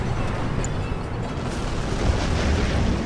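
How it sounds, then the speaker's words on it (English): Explosions from an artillery bombardment in the real-time strategy game Red Alert 3 Uprising, a dense, continuous rumbling barrage of booms, loud and steady throughout with no talking. "Bombardment underway."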